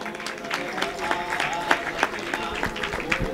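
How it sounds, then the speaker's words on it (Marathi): An audience claps at a centenary celebration gathering, a light, scattered applause of moderate loudness, with voices faintly present. "सर्वांनी टाळ्या वाजवून त्यांचा"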